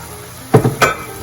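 Pork gravy poured over Portuguese bifana meat in a hot pan, giving two close bursts of sizzle and splashing over a quiet kitchen background, with no talking.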